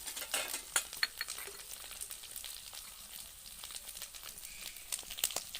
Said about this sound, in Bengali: এবার নাড়াচাড়া করে এতটাই ভাজতে হবে যে দলা পাকিয়ে আসবে